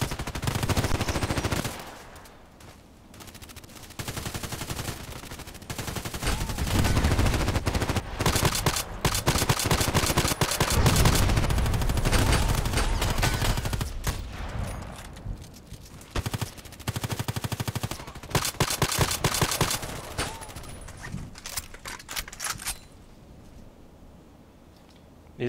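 EBR rifle gunshots in a shooter video game, loud sharp reports fired in rapid bursts and strings with brief pauses, sustained over a long stretch of dense gunfire.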